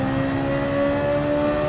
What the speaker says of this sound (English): I just love how much it revs.